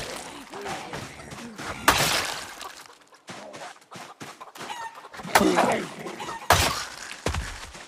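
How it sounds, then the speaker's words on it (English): Chickens in the survival video game Project Zomboid cluck and squawk in a busy scattered series, with sharp crash-like bursts near the middle and end, close and fairly loud. "Relax yourselves, chickens."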